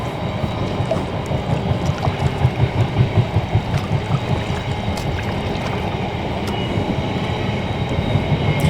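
A very long freight train rumbles steadily past beside a canal, a loud continuous rolling roar with faint rhythmic clatter of wheels over rail joints, sustained for the whole stretch without voices.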